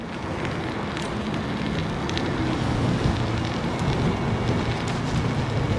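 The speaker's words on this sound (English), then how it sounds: "Wow, it's windy." Strong wind roars steadily across the whole stretch, a dense broadband rush with no letup, buffeting close to the microphone during a bike ride in Toronto on a very cold day.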